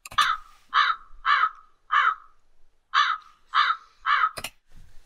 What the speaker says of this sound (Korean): 아, 이 까마귀 소리 정말.